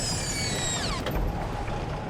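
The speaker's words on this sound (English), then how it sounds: "It's nice to hear that sound. the brakes are released." Air brakes releasing on a heavy tow truck on the highway, a hissing rush of air that tails off within a few seconds, close by.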